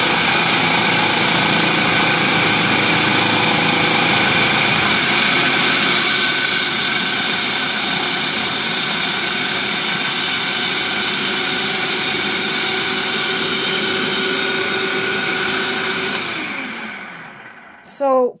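A food processor whirs loudly and steadily while chopping kimchi ingredients, a dense high-pitched motor whine that holds for about sixteen seconds, then winds down and stops, with a small clunk at the end.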